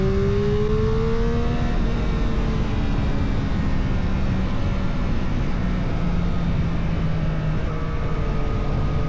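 A loud 2021 Triumph Street Triple 765 motorcycle engine roars continuously, revving high with rising and falling pitch as it accelerates close past, constant and dominant throughout.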